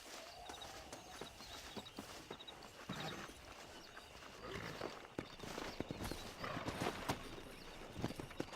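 Horses in the Red Dead Redemption video game clip-clop along with steady hoofbeats and let out whinnies and neighs, a busy layered mix of several animals moving close by with no talking.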